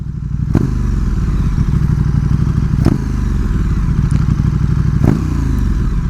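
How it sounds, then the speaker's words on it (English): Motorcycle engine droning loudly and steadily close by, with three sharp mechanical clunks from gear downshifts spaced a couple of seconds apart, no voices over it. "Clutch in, downshift, blip the throttle, and release the clutch."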